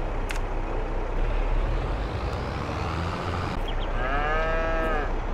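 Cattle on a farm lowing, with one long, clear moo near the end rising over a steady rumble of machinery and engine noise; no talking.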